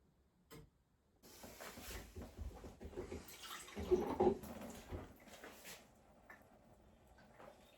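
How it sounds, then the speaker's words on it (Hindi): Water runs from a household tap in a UK home, a soft, steady stream that starts after a moment of quiet and continues faintly with small clinks. "आप डायरेक्टली नल से पानी लेके पी सकते हैं। ठंडा और गर्म दोनों का ऑप्शन है।"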